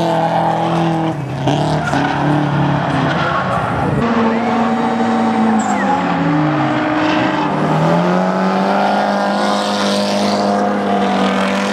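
Nissan Skyline engine at a drift and drag event at Wild Horse Pass, loud revving and rising pitch sweeps with tire squeal, close and continuous amid crowd noise.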